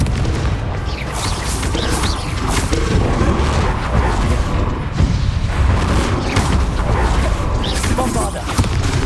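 Confringo spell blasts in Hogwarts Legacy erupt as repeated loud booms and heavy impacts over a dense, roaring battle din, continuous and forceful with no clear speech.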